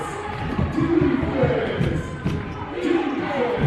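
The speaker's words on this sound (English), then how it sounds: "That gets the crowd going." Home basketball crowd in a college gym roars and cheers after a dunk, a steady swell of many voices with a few thumps underneath, close and fairly loud.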